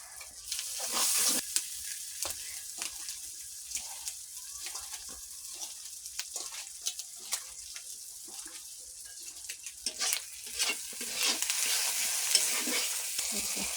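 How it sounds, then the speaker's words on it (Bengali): Duck meat with salt and spices is stirred and braised in a pan with a little water, giving a steady close sizzle with scraping stir strokes throughout and no talk. "সামান্য জল দিয়ে কষানো হচ্ছে"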